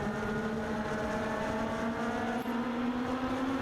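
Legends race cars circle a speedway in heavy traffic, a steady layered engine drone with sustained harmonic whine, heard from a distance without pass-by peaks.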